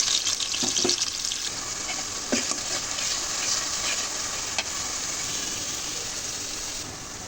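Chopped onion sizzles in oil in a cooking pot with cinnamon and bay leaf, a constant close hiss broken by a few soft stirring scrapes, with no voices.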